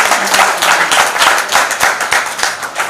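Loud, dense applause from a village gathering, honouring Prime Minister Narendra Modi at a Swamitva scheme property-record distribution, a continuous clatter of many hands with no voices over it.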